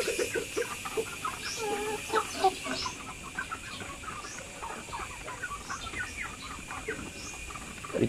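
Chickens clucking on a chicken farm where breeding hens are kept, a busy flock chorus of repeated clucks and calls layered over steady outdoor background noise, fairly close and continuous.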